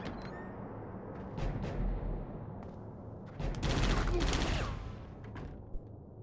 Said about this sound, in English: High-powered assault rifle.